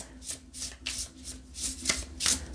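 Tarot cards being shuffled in steady repeated bursts of riffling and sliding, close and clear with no talk over it.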